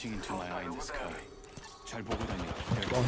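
Close-range gunfire in an Apex Legends fight rattles in rapid bursts and single shots, loud and layered under excited talk from players.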